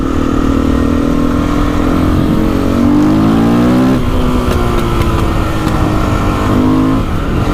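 Husqvarna 510 SMR supermoto engine revving hard under load, a loud, close, continuous roar whose pitch climbs in rising sweeps, dips and climbs again across the run.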